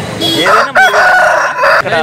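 An Aseel rooster at a poultry market crows loudly and close by, a strained, wavering call that breaks and resumes over about two seconds.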